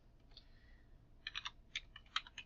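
Computer keyboard typing while searching article databases for randomized controlled trials: a few short clusters of quiet key clicks in a near, sparse rhythm over faint room hiss, with no talk.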